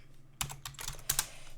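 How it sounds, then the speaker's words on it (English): Computer keys clack in a quick, uneven burst of several strokes with short pauses, close and clear against a quiet background with no voices. "Slow at typing."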